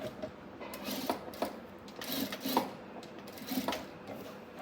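A sewing machine stitches fabric for a telekung prayer garment, giving a continuous mechanical whirring with rhythmic clattering pulses at a moderate, close level and no talking.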